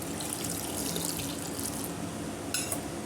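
Water runs steadily from a tap into a pot of washed, cut potatoes, a continuous close splashing with a brief brighter burst near the end.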